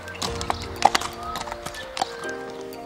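Cristal the horse walks past rocks and a parked quad, hooves clip-clopping in an uneven rhythm at close range, with a few sharper knocks and a faint snort or whinny-like tone in the background.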